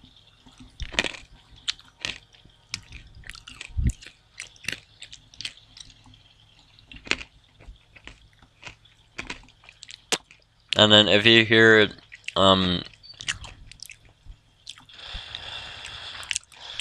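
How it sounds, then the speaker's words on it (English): Someone eats food with close, sharp crunches and chewing clicks scattered through quiet background noise, and a voice talks briefly partway through. "crunching noise and background noises, I am eating food"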